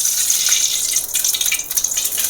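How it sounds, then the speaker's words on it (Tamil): Cooking oil pouring into a pan, a continuous hissing, gushing pour that holds steady and loud from start to finish, close up with no talk. "எண்ணெயை ஊற்றிக்கலாம்"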